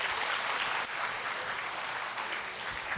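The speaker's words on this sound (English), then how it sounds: "a round of applause for the Chorus of Arts and Letters" Steady, fairly loud applause at a lecture event, a dense wash of many hands clapping in a hall for a chorus, with no voices over it.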